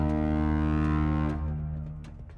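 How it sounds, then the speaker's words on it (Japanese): A cargo ship's horn in a video game sounds as the vessel arrives at port, one deep, rich blast that holds steady and then trails off. "汽笛が鳴ったんすけど、港に到着します"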